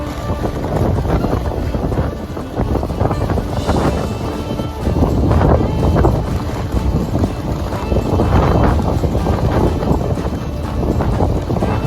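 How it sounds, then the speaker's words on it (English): Strong wind buffets the microphone with a steady low roar that gusts louder at moments throughout, outdoors while feeding cows. "the wind is really picked up"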